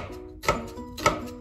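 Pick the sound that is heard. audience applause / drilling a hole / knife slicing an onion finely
knife slicing an onion finely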